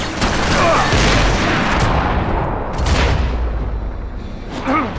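Gunfire in the video game Max Payne 3, a dense continuous fusillade of rapid shots and booms that stays loud throughout with no letup.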